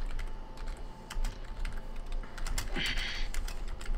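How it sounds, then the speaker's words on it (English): Rapid clicking on a computer keyboard, with keys tapped in quick irregular bursts at close range. Soft background noise lies underneath, and there is no speech. "I'm typing so much."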